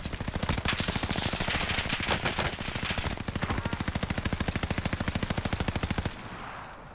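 Automatic gunfire in the video game Call of Duty Warzone, loud rapid bursts of shots in close, relentless rhythm lasting several seconds before stopping.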